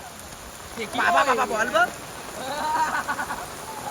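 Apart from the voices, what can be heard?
heavy rain falling during a cricket game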